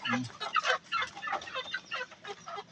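Several Bisaya native chickens cluck close by in quick, uneven bursts, soft and low in level.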